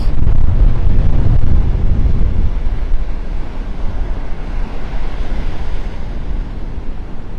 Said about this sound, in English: The gimbal's having a hard time holding the camera here against the wind. Battling the wind.